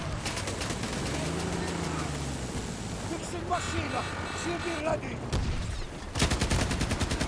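Battlefield 2042 gameplay on a Queen Maud Land map, with an MV-36 Kondor 7.62 mm minigun pod fired from the hip: dense, rapid, continuous bursts of automatic gunfire over engine drone, with a voice talking over it.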